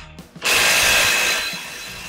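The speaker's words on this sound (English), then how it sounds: "Helps to have power tools." A power tool, likely an impact wrench, working on the ball joint nuts of a Ram 2500 pickup in a garage, a loud continuous whirring burst that starts abruptly after brief clicks and then eases slightly.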